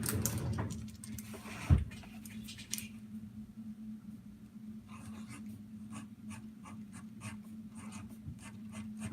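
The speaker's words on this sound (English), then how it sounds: "let me write it down." A pen scratches across paper up close in quick, rhythmic strokes, with one sharp knock early on. A brief voice and some rustle come before the writing settles into steady short scribbles.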